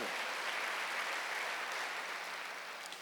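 A church congregation at a Wednesday worship service claps together in a dense, sustained burst of applause. The clapping fills the room evenly and then fades slightly at the end.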